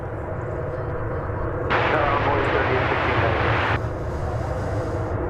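An American Airlines Airbus A321 jet at DFW Airport gives a steady engine roar that swells loudly for a couple of seconds in the middle, over continuous low rumble, with a voice talking throughout.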